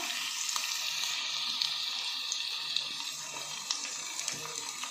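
Spices for a hilsa fish and vegetable curry fry in hot oil, a steady close sizzle with occasional stirring scrapes and ticks throughout, no voices over it.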